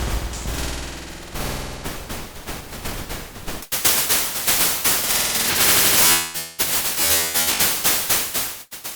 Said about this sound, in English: A pink or white noise generator, which can be toggled on the right, follows the envelope of the incoming signal.